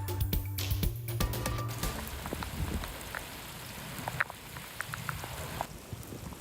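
Rain falls in Kearny Mesa and Rancho Bernardo, San Diego, as a steady soft hiss with scattered drips and light taps on surfaces, after a brief burst of low rumbling at the start.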